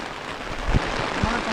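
Rain falling at night on a road during a crab hunt, with an umbrella held overhead: a steady broadband patter with a few brief louder thumps of drops, close by and moderately loud, and no one speaking.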